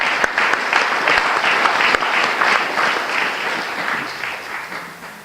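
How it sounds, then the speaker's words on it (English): An audience at an ecosystem restoration council meeting gives a loud, dense round of applause that holds steady and then gradually fades toward the end. "if you guys could give a quick round of applause to them"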